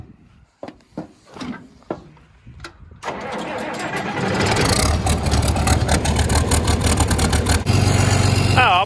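A John Deere 9620RX tractor engine cranks with a few clicks and whirs, then catches and roars into a loud, rough, steady idle close by.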